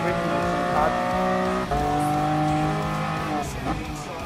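In Gran Turismo Sport, Lamborghini race cars in a Lamborghini Cup race keep up a loud, continuous engine drone, with gear shifts and pitch changes as the cars corner and overtake.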